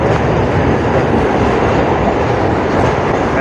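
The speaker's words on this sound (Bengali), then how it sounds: "এলিভেটেড লাইন আমাদের শুরু হচ্ছে, মানে ব্রিজের ওপর দিয়ে ট্রেন যায় সেটাকে এলিভেটেড লাইন বলা হয়" A Kolkata Circular Railway train runs along an elevated line on a bridge. It makes a loud, steady, close rumble with continuous wheel clatter throughout.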